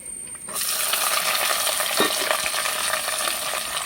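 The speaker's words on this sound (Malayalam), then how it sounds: "അപ്പോൾ ഇനി നമുക്ക് അരിഞ്ഞു വച്ചിരിക്കുന്നത് ഇതാ നമ്മുടെ മുരിങ്ങയിലയും അച്ചിങ്ങായും പച്ചമുളകും സവാളയും മഞ്ഞൾപ്പൊടി ഇതങ്ങിട്ട് കൊടുക്കാം" Chopped moringa leaves, beans, green chilli and onion with turmeric hit a hot pan and sizzle loudly, a steady frying hiss with a few stirring clinks throughout.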